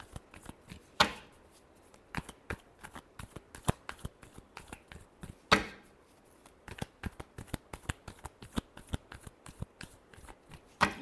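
Tarot cards being shuffled by hand, a rapid run of crisp riffling slaps and flicks with two louder bursts, close and alone with no talk.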